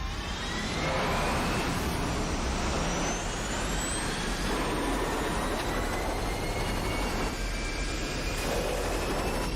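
A huge, steady roar of spacecraft engines firing in the film Interstellar, dense and unbroken with faint whining tones sweeping through it, loud and constant throughout with no voices.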